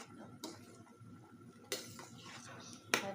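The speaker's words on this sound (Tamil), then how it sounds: "இதை இப்போ இப்படியே கலந்து விடும்" Chicken curry in a pot being stirred after coconut milk is added, with a few clear metallic clinks of a spoon against the pot over a low, steady kitchen background.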